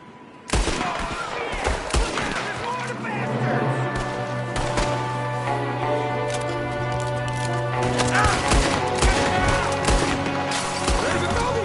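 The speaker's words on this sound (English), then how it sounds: "There's another one shooting from the window." Rapid gunfire crackles from an enemy shooting out of a window in Red Dead Redemption 2, a dense run of shots over a sustained tone and background game noise, with voices speaking over it.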